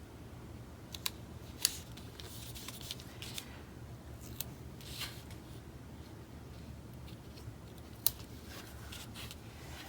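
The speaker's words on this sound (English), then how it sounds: "we'll cut it so that we can face the other direction." Scissors cut through a sticker in a stickerbook, faint quiet snips and small clicks scattered irregularly over a soft background hiss, with a few sharper cuts standing out.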